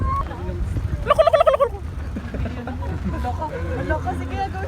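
A short, loud turkey gobble rings out amid chatter and background crowd noise at the Baluarte safari park in Vigan, Ilocos Sur, with people talking before and after it.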